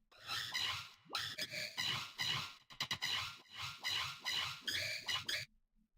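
A squelchy, squeaky synth sound smeared by a sweeping phase effect, pulsing in quick rhythmic bursts, chirping and warbling for several seconds before stopping.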